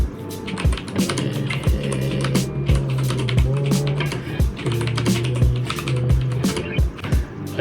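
Rapid clacking keystrokes rattle close and continuous, with heavier thumps mixed in, like fast typing on a mechanical keyboard.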